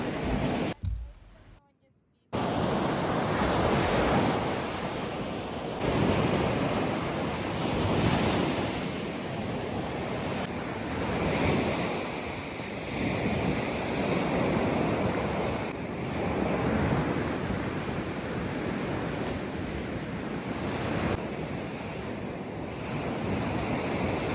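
Sea waves roll onto the beach at Sanzhiika, with steady surf washing in surges while strong wind buffets the microphone, loud and close throughout.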